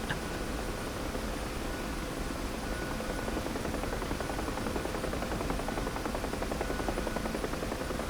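A UH-1 Huey helicopter in the DCS flight simulator flies with a steady, dense rotor and turbine roar that fills the whole stretch at an even, unbroken loudness.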